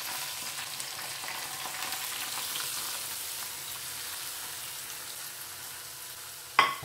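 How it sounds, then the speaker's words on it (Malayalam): A hot tempering of dried chillies and curry leaves is poured onto a Kerala coconut-milk fish curry in a clay pot, giving a steady hissing sizzle that ends with a sharp clink. "കുറച്ച് വട്ടൽ മുളകും കറിവേപ്പിലയും കൂടെ നമുക്ക് ചട്ടി തുറന്നിട്ട് ആ ഫിഷ് കറിയുടെ മുകളിലോട്ട് ഇതൊന്ന് ഒഴിച്ചു കൊടുക്കാം."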